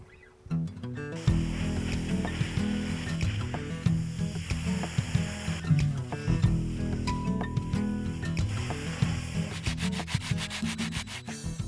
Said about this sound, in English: remove all the paint off the walls with our high pressure water hose